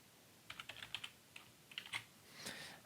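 Fingers type on a computer keyboard, entering text into a document header: a quick, quiet run of close key clicks in small bursts, ending in a softer rattle.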